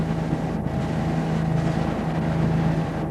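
Sailboat under sail on the Caribbean, with a steady broadband rush of wind and water passing the hull and a low continuous hum, constant and fairly loud throughout.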